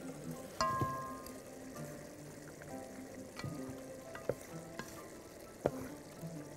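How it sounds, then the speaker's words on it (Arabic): Spaghetti gets stirred into red sauce in a pan with a soft, quiet sizzle, while scattered clinks and scrapes of the utensil sound at irregular moments. "تعالوا هنا احط معاها المكرونه اهو، ونقلب كويس"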